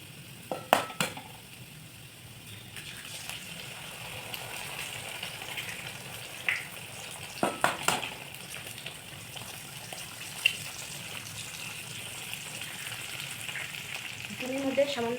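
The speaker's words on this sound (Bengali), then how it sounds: "এবার আমি ওর মধ্যে ডিম দুটোকে ভেঙে দিয়ে দেবো।" Eggs cracked into a little oil in a pan, frying together with vegetable bhaji, a moderate continuous sizzle that swells after a few sharp clicks and taps at the start and more clatter midway, with no speech.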